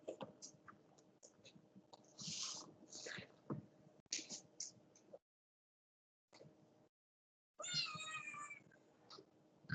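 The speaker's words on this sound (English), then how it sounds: "I'm not sure what my cat is answering" A house cat meows several times, soft and then more drawn out, in a quiet room. Faint clicks and low speech sound in the background, and there are short silent gaps between the sounds.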